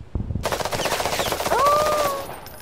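Sustained bursts of machine-gun fire in the Fog of War video game, a fast, rattling run of rounds that starts abruptly and rings out over a couple of seconds, with a shrill whine near the end.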